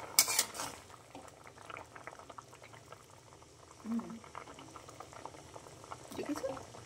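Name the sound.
potatoes boiling in a pot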